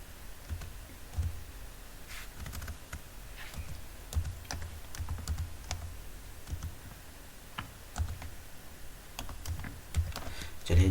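Typing on a computer keyboard while writing in Notepad, a steady run of light, close key clicks and taps with irregular rhythm and occasional louder strokes, alone without talk.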